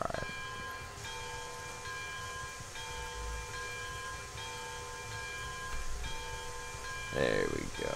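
Steam locomotive in Railroads Online backing up, a steady mechanical rumble with rhythmic chuffs and a faint whistle-like tone, and someone talking briefly near the end.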